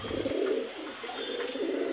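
Pigeons coo in low, rolling murmurs, close by and steady over a soft background hiss.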